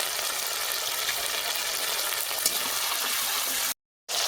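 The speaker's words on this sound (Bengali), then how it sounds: "আদাটা খুব লাফাচ্ছে সেই জন্য লবণ দিয়ে আর কিন্তু লাফালাফি করবে না" Ginger paste spluttering as it fries in hot oil makes a dense, loud, continuous hiss and crackle close by, cutting out abruptly near the end.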